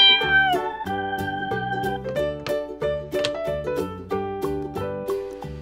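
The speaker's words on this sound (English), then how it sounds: "A cat goes." A cat meowing several times in a rhythmic, sing-song pattern over a bright musical backing, each meow clear and close, with no talking.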